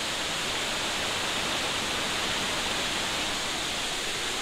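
Hogenakkal waterfall in heavy flow, a loud, dense and unbroken roar of rushing water heard close with no voices.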